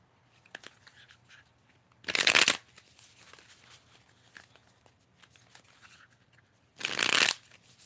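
A deck of tarot cards is shuffled in two brisk, loud riffling bursts a few seconds apart, with faint rustling and a quiet room hum in between.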